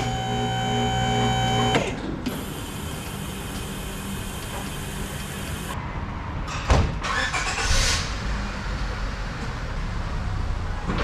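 A 1965 Plymouth Fury wagon with Sniper 2 EFI fuel injection drives after a wheel alignment, giving a steady road and engine rumble with a brief bump or thump partway through.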